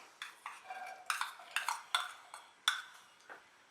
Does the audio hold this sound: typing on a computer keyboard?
no